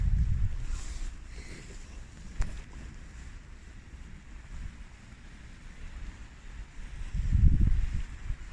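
Outdoor wind gusts buffet a camp stove flame fitted with a snuffer, a low roaring rush that swells loudly near the start and again near the end, with quieter stretches between.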